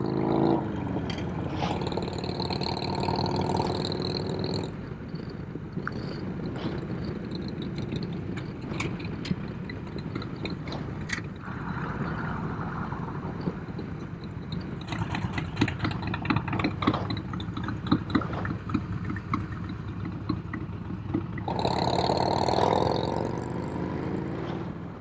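A Harley-Davidson Road King motorcycle idles and rumbles through slow road traffic, its engine a steady low throb with occasional revs and surrounding traffic noise, while gusty wind bursts sweep in near the start and end.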